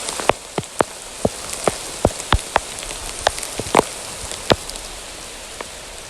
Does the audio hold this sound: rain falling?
yes